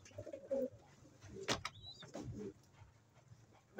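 A domestic pigeon in a fancier's loft coos softly a few times on a rainy night, close but faint, among small rustles and handling noises.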